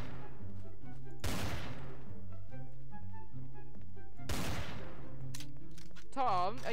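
Gunfire in the video game Garry's Mod: two loud, sharp blasts a few seconds apart over steady game music, with a short wavering tone near the end.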